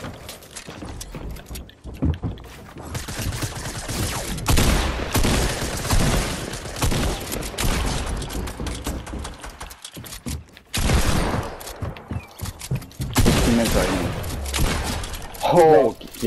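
Video game gunfire in a duo match comes as rapid bursts and scattered shots, mixed with clattering mechanical clicks and impacts, loud and close, while players talk over the action.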